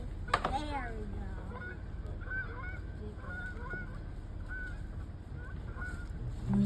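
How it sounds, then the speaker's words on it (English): Canada geese honk outdoors: one loud nearby honk at the start, then scattered quieter honks and calls from the flock over a steady background rush. "The same flock of Canada geese arrive here, build their nests, raise their young, then migrate south in the fall."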